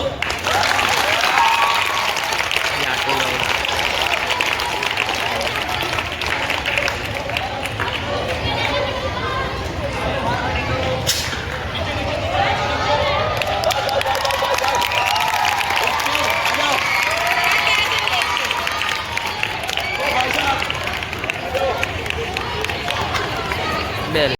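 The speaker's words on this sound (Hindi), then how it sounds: "चलो ताली मारो।" A crowd of students claps steadily and loudly throughout at a school fire safety training, continuous applause with scattered voices chattering underneath.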